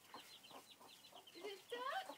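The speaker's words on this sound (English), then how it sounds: "Maybe, I think it's a chicken." A chicken clucks in a series of short, quiet calls that grow louder and more excited toward the end, close by with no talk.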